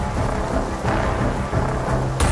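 Heavy, steady rain pours during a thunderstorm in Bombay, with low rumbling thunder underneath and a sharper crackle near the end, and no voices.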